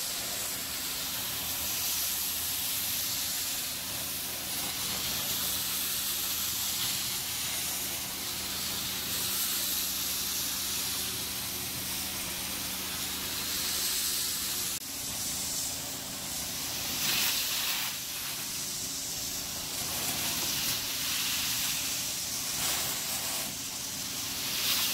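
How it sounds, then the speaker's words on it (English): An inline sprayer applies Prozyme cleaner to a filthy restaurant carpet, giving a continuous loud hiss of spray that runs unbroken, with a faint background hum and no talk. "We put it down with the inline sprayers in any areas that need it."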